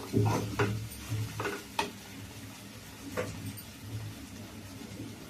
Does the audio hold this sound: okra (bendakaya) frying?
yes